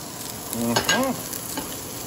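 Ingredients including native chicken hearts, livers and gizzards and chili leaves tip into hot cooking oil, giving a brief sizzle and stir clatter that fades to a steady low fry.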